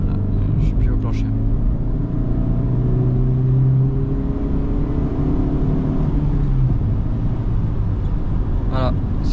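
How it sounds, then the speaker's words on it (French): A Renault Clio 4 engine at full throttle around 2000 rpm, a loud, steady low rumble with a slowly rising drone heard from inside the car, with brief voice sounds over it. "je suis à 30 à 2000 tours, pied au plancher"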